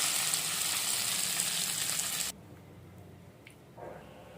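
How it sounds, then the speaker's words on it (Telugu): Hot tempering poured into drumstick leaf chutney gives a loud, close sizzle for about two seconds, then cuts off abruptly, leaving near quiet with a few faint clicks and a soft squish. "మనం ముందుగా రెడీ చేసుకున్న ఈ మునగాకు పచ్చడిలో తాలింపు వేసుకుంటున్నాం."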